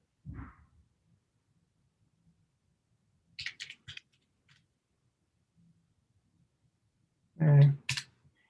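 A few short bursts of computer keyboard key clicks come as someone types NumPy, separated by long silent gaps, with a brief voice near the end.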